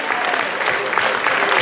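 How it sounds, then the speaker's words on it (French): Congregation clapping during a French-language church service, a dense, steady round of applause lasting the whole moment, with faint voices mixed in. "Applaudissons le Seigneur pour ses dons."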